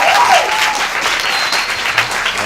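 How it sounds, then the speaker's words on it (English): Steady, dense applause from a high school poetry slam audience fills the space, with many hands clapping continuously and loudly throughout, no speech on top. "So give everyone who participated today a round of applause."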